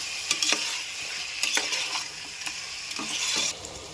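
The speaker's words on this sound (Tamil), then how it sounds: "மஞ்சள் போட்டுக்கோங்க. நல்லா வதக்கிக்கலாம்." Onions with salt and turmeric sizzle softly in a pan while a utensil stirs them, with periodic scraping strokes over a quiet, steady fry.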